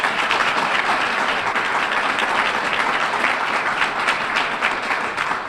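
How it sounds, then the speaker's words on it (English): Sustained applause from a dinner audience at a university awards ceremony, dense steady clapping filling the room throughout, loud and close with no talk over it. "Let's give honorees a round of applause,"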